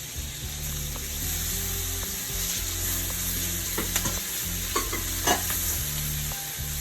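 Shrimp stir frying in a pan with a steady loud sizzle, a low hum underneath and a few sharp scraping stir sounds, close up with no talking.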